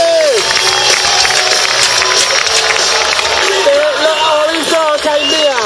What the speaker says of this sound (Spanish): Un fuerte aplauso para Chus Domínguez.